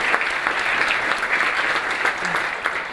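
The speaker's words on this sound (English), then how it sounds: "Let's give them all a round of applause as well." Sustained applause from a luncheon audience at a chamber of commerce event, many hands clapping in a thick, even roar with faint voices underneath.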